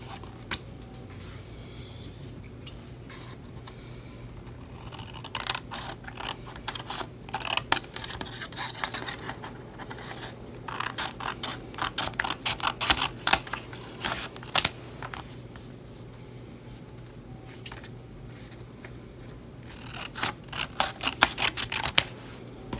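Scissors cutting out a paper planner tab, a series of close crisp snips and paper rustles coming in clusters over a quiet background.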